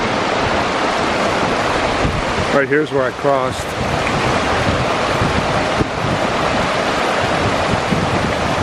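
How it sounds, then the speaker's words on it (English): A swollen creek rushes steadily in the North Absaroka Wilderness in April, a loud, continuous roar of water mixed with wind buffeting the microphone, while someone speaks briefly over it. "Creek flowing pretty good."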